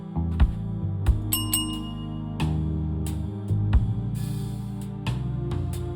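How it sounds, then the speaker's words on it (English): A bicycle bell rings repeatedly in a video game, bright metallic dings sounding over a steady backdrop of game music, loud and close. "Okay, he doesn't really care about the bell."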